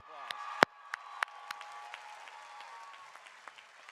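Graduation crowd at a university spring commencement begins to applaud: a few sharp, scattered claps ring out, then thicken into a steady, moderately distant wash of clapping that carries on evenly.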